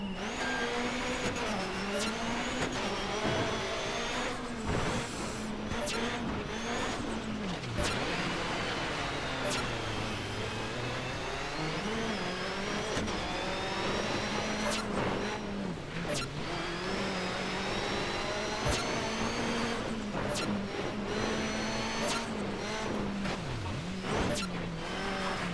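A Mini rally car in the Dirt 3 racing game revs and drones continuously at close range, its engine pitch rising and falling through gear changes, with short bursts of tire and gravel noise and a voice talking over it.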